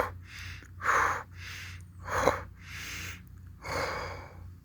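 A person demonstrating a quick-breath cleansing technique: several sharp, forceful breaths in and out in an uneven rhythm, close and clear, each a short rushing burst separated by brief pauses.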